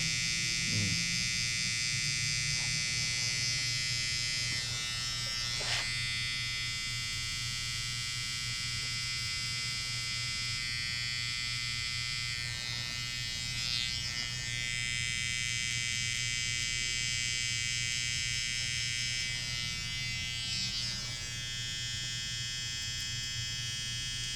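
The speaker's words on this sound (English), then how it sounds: "I'll go over with the trimmer" During a barbershop haircut, an electric hair trimmer gives a steady, close, high-pitched buzz that runs unbroken for the whole stretch. Faint brushing passes recur as it moves over the hair.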